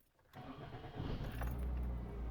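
A car's engine cranks and catches after a short jingle of keys, then settles into a steady, close idle rumble that continues to the end.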